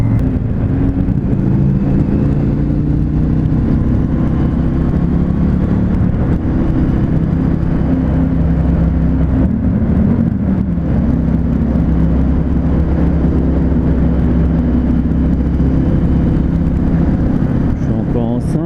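An Indian FTR 1200 S motorcycle accelerates on a motorway with a loud, steady engine drone under heavy wind rush throughout. A rider talks over it.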